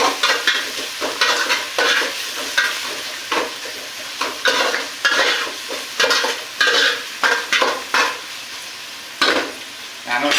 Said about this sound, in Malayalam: അപ്പോൾ അതൊന്ന് ഇളക്കി കൊടുക്കണം നമ്മൾ.